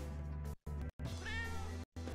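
A cat in the horror video game Tokyo Dark meows in a few drawn-out, plaintive calls broken by short silent gaps, clear and fairly close, with no talk over it.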